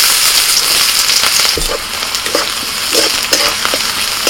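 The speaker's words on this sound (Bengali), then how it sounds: "ফোড়নটা একটু ভাজা হয়ে গেলেই দিয়ে দিচ্ছি পেঁয়াজ কুচি" Chopped onion hits hot oil already seasoned with cardamom, cinnamon and cloves, giving a loud, continuous sizzle broken by a few sharp stirring knocks and scrapes of a spoon against the pan.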